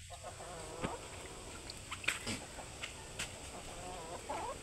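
Chickens and chicks on a farm at feeding time, with scattered faint clucks and chirps over a steady outdoor background, occasional brief sharper calls.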